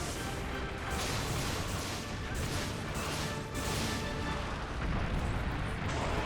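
Rapid, continuous blasting from Valor-style bowgun extra shots in Monster Hunter Generations Ultimate during a fight with Gammoth, a dense roar of loud gunfire and crashes.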